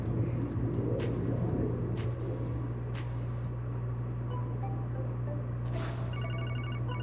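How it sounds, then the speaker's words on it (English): A phone rings in a video game, a faint repeating electronic ring near the end over a constant low engine-like rumble and background hum. "Oh, we're getting a phone call."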